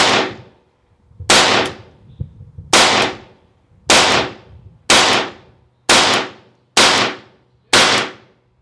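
Eight sharp, loud reports from a BINTAC T9 9mm airgun shot at a target, evenly spaced about a second apart, each one decaying quickly into a quiet gap.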